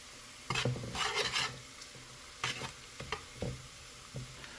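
Ginger and garlic sauté in a pan, a soft, low sizzle under a few quick spatula scrapes and stirring strokes in short bursts.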